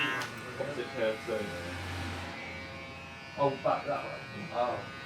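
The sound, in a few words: electric trimmer trimming a giant beard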